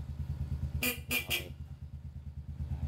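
Three quick beeps of a motorcycle horn sound over an idling engine's steady puttering rhythm.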